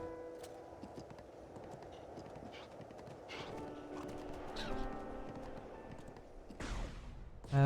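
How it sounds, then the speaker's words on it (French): Horse hooves clip-clop at an even walking pace amid game sound effects in a Zelda: Breath of the Wild survival playthrough, with a brief swell of noise near the end. "On a un cheval de feu."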